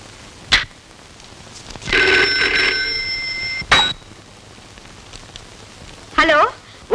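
An old telephone rings in a comedy scene, a bright bell trill lasting about two seconds, set among sharp knocks and brief voices.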